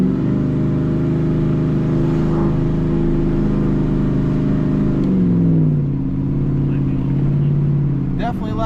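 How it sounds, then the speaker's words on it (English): A car exhaust with cutouts open rumbles loudly and close with a deep, throaty drone, then its pitch shifts and settles into a lower burble. "Definitely louder with the cutouts on."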